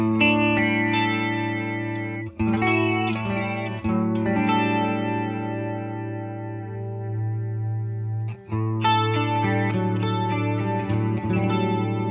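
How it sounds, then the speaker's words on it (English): Electric guitar chords played through a Red Witch Apothecary delay pedal set to a short delay time, sustained and shimmering with light eerie repeats, loud and close, alone with a couple of brief re-strikes. "when we wind it around here, we're dealing with a shorter delay time"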